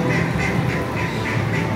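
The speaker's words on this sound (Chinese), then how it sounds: "你看这些鸭子跟鹅。" A flock of ducks and geese keeps up a continuous chorus of overlapping quacks and honks, close and busy, with no clear talk over it.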